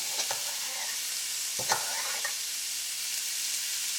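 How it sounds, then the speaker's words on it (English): Finely chopped small onion sautéing in oil in a pan, a steady soft sizzle with a few sharp clicks of stirring, close and moderately loud, no voices. "So here the onions are just sauteing in the oil"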